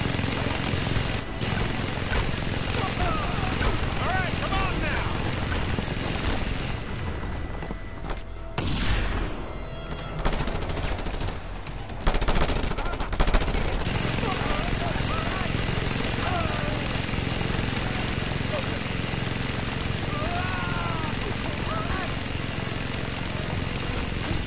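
Gunfire in the open-world action game Just Cause 2, a dense stream of bursts running nearly nonstop beneath a constant engine-like drone, with a brief lull midway before the firing resumes.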